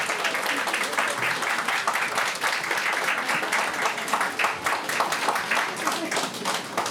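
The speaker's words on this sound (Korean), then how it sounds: "큰 박수 부탁드리겠습니다" Guests at a traditional Korean wedding ceremony clap as the groom's parents embrace the bride, a sustained, even patter of many hands heard from a middle distance with a faint voice mixed in.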